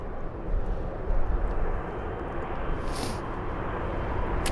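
Airliner engines spooling up at London Heathrow, a steady broadband roar with low rumble that holds at moderate loudness throughout, distant and continuous with no voices.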